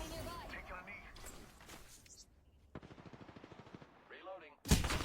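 A rapid burst of automatic gunfire crackles through a video game battle, with a sharp, louder shot near the end and a voice talking over the action.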